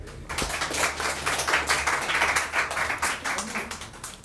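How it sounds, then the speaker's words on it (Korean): Audience applause at a Korean instructors' demonstration lecture, a dense, steady wash of clapping that stays loud and fairly even throughout, with some background noise. "많은 박수 부탁드립니다"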